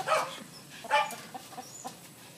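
A few soft clucks from chickens nearby on a farm, scattered short calls over a quiet outdoor background, fairly faint.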